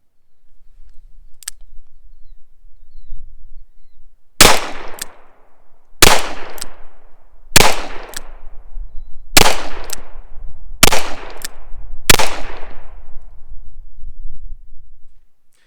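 Smith & Wesson 624 Target Model of 1985 revolver firing six loud, sharp shots at a steady pace of roughly one every one and a half seconds, each crack followed by a short decaying echo, heard close up with no talking.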